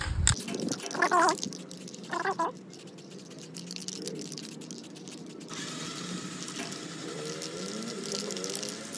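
Aerosol spray paint is applied to a car sport rim being coated in a gold and black dual tone. A few close clanks and rattles give way to a steady, continuous hiss of spraying that holds to the end.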